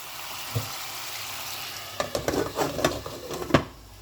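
Pepper steak meat cooking in a pot, a low steady sizzle with a spoon stirring and scraping against the pot in several sharp clacks toward the end.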